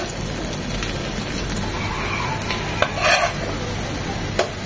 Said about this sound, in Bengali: একটু পরপর এভাবে উঠিয়ে দেখতে হবে চামচের সাহায্যে।